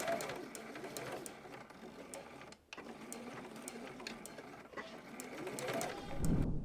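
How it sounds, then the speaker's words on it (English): A sewing machine runs a straight seam along the cut edge of purse fabric, its rapid mechanical stitching steady and close with a couple of brief pauses, including backstitching at the start and stop. "So I'm just going to sew straight down this cut edge with about a 1/2 inch seam allowance."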